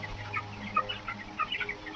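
Broiler chickens about 23 days old cluck and chatter in a small poultry flock, several soft overlapping calls in an irregular rhythm at moderate distance, with a low hum underneath and no talking.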